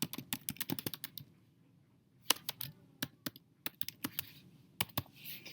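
Keys clatter on a computer keyboard as a document header is typed, quick bursts of close, crisp taps separated by a short quiet pause.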